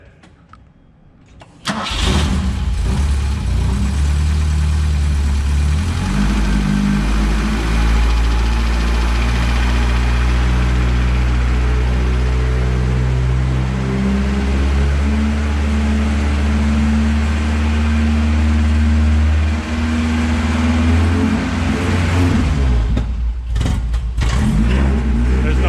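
A BMW E21 barn find engine starts and runs with no muffler, loud and close, settling into a rough, throaty idle with slight rev changes before cutting off near the end.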